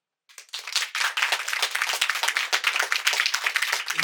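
A live audience bursts into sustained applause, dense clapping starting abruptly and holding steady at full loudness, part of a show-of-hands style vote between cat people and dog people.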